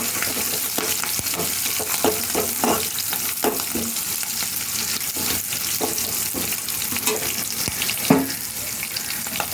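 Green chillies fry in hot oil in a pan, giving a dense, close crackling sizzle with frequent stirring clinks and scrapes throughout.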